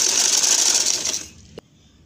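A sewing machine stitches doori piping onto a dupatta, running loud and fast at close range for over a second, then stopping, followed by a single small click.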